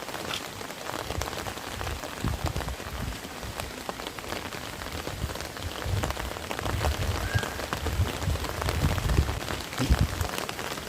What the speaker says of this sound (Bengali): ছাতায় বৃষ্টি পড়ার শব্দ।